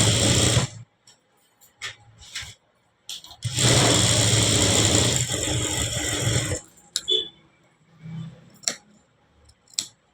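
A sewing machine stitches a blouse lining in one sustained burst of a few seconds amid scattered handling clicks and short sounds, with brief speech nearby.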